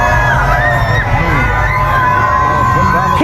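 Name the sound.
crowd cheering in the streets for Donald Trump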